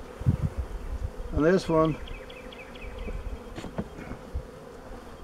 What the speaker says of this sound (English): So we're going to shake some bees off here.